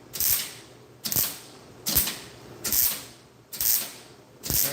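Metal panels being tack welded, five short bursts of harsh crackling hiss, each lasting under a second, separated by pauses of about half a second, close and loud.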